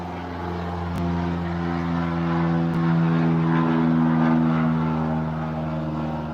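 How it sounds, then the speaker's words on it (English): A propeller airplane passes overhead near a small, busy local airport, its steady droning hum holding loud and close for several seconds without any talk. "And we have another plane."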